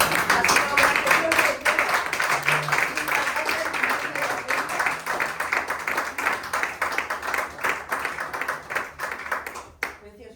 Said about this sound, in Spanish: quiero que os den un fuerte aplauso